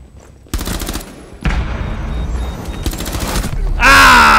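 Rapid bursts of gunfire from the tactical shooter game Rainbow Six Siege, loud close volleys in clusters separated by brief gaps, ending in a sustained roaring burst.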